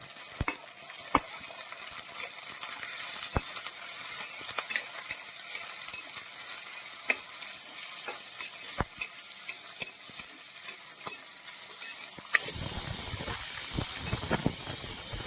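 Shallots and green chillies fry in a pan for a Kerala-style prawn and jackfruit-seed curry, a continuous loud sizzle and hiss with scattered scraping stirs, flaring into a louder, harsher sizzle near the end.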